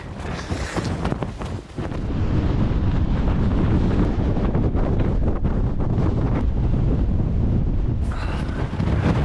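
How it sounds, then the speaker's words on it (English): Strong winter wind on a Scottish mountain buffets the microphone during gravel biking in a loud, continuous roaring blast, briefly easing before surging again with full force. "Just got the full force of that wind there."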